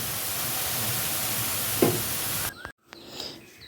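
Gram flour boondi frying in hot oil, a loud, steady sizzle that runs close and continuous before cutting off abruptly, followed by quieter kitchen noise.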